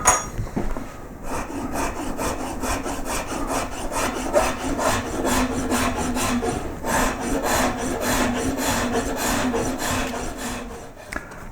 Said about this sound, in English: I started the sanding with 120 and I worked through to 240 grit.